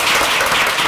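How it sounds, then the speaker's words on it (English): Attendees at a Tupelo education conference give a round of applause, a brief burst of dense, fairly loud clapping from a crowd. "Let's give him a round of applause for that"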